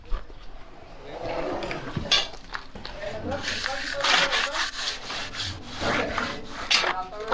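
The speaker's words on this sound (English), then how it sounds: "See these guys floating the foundation here?" Workers floating a concrete house foundation by hand with trowels, a continuous scraping, rubbing texture of irregular strokes at moderate distance, with people talking over it.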